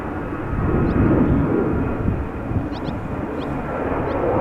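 A fixed-wing airplane departing Amsterdam Schiphol Airport gives a broad, steady engine roar that swells and then holds, heard from the ground with wind noise and a few faint bird chirps.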